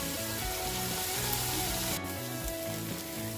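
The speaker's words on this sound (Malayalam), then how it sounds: "ഇനി ഇതിൻ്റെ ഒരു പച്ചമണം മാറുന്ന വരെ നന്നായിട്ട് വഴറ്റിയെടുക്കാം." Crushed ginger, garlic and three green chillies sauté in a pan, giving a steady, even sizzle with no break throughout and no voices.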